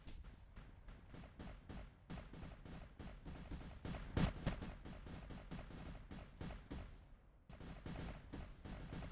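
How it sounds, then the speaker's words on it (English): A cannon on a boat in Build a Boat for Treasure fires in a rapid string of booming shots, dozens of repeated blasts with brief gaps, fairly faint overall and without voices. "Oh, we also do have a cannon on here."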